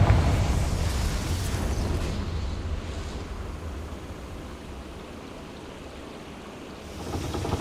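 The Confringo fire-blast spell goes off in Hogwarts Legacy as a loud, sustained, roaring rumble that slowly thins out, then swells again at the close.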